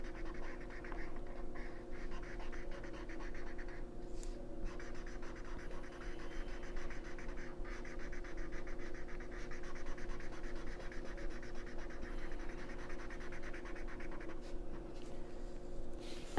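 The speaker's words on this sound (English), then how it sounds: "Because this is a pretty big area of blue to color in." Pencil or crayon coloring in a large blue area of a whale drawing on paper, heard as steady, close scratchy scribbling strokes that continue without pause throughout.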